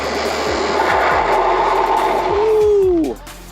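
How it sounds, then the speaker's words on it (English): The rear wheel of a Gemini Fucare dual-battery step-through e-bike skids under hard braking at speed, a loud close scraping rush with wind noise that rises in pitch and cuts off abruptly as the bike stops. "That back wheel was sliding out a little bit and skid probably a good 25, 30 feet."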